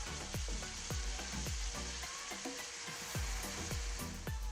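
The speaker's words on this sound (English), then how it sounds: "So I'm gonna allow it to fry it up for 2 to 3 minutes" Curry shrimp seasoning with minced thyme sizzles steadily in a hot pan, a constant crackling fry with sharp little pops and spits scattered throughout, close and fairly quiet, with no voices.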